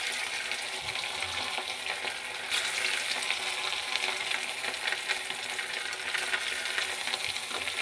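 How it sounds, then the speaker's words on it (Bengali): Marinated meat pieces frying in hot oil, a loud continuous close sizzle with occasional stirring clinks, no speech. "তো এইভাবে আমি মাংসের টুকরোগুলোকে ভেজে নিচ্ছি।"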